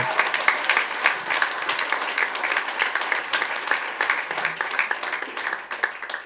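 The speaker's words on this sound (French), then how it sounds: "je crois qu'on peut applaudir bien fort notre Dieu" A church congregation breaks into loud, sustained applause, a thick wash of clapping with faint voices mixed in that stays steady for several seconds.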